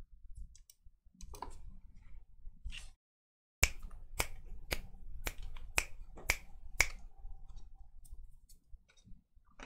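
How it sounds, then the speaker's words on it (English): Crisp finger snaps ring out in a steady rhythm of about eight close, sharp clicks after a short silence, with a few softer scattered snaps and handling sounds before it. "Do you like the snapping better or the clapping?"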